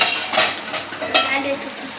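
Cabbage curry with fish head and peas cooks in a wok, giving a steady, close hiss and sizzle with faint stirring and scraping throughout, and no voices.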